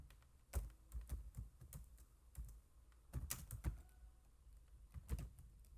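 Computer keyboard keys clatter in quick, uneven bursts of clicks with short pauses, quiet and close, and no voices.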